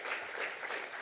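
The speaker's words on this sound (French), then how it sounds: "On l'applaudit chaleureusement." A conference audience applauds warmly after a talk on photovoltaic project feasibility, a dense, even wash of clapping filling the brief moment without pause.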